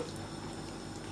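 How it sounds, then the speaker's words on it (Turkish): Water poured into a cooking pot while preparing a chickpea dish, a steady close splashing and filling sound running unbroken throughout without any talk. "Artık suyunu ilave edebilirim."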